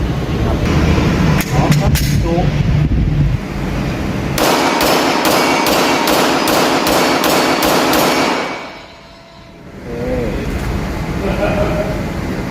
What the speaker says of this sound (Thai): แล้วมายิงทดสอบ กันดูแบบ รัวๆ นะครับ